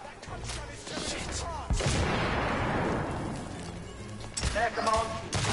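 Grenade explosions in the video game The Order: 1886, heavy booming blasts and crashing debris rolling through the middle of the clip, with gunfire and rumble around them.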